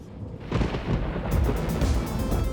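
Continuous heavy thunder rumbles loud and close from rare upward lightning in Paraná, Brazil, where bolts rise from tall metal structures such as rooftop antennas.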